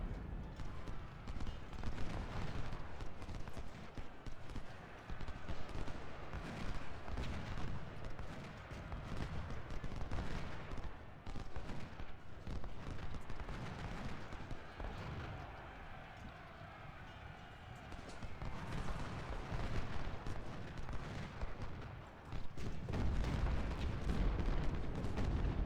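Cavalry gunfire in a Civil War battle game crackles as scattered, overlapping rifle shots and distant booms over a dense battlefield din, steady and moderately faint throughout.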